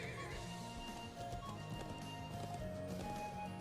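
A horse gallops in the video game Legend of Heroes: Trails of Cold Steel, its hooves drumming steadily under a dense bed of game music and ambience, fairly quiet and continuous throughout.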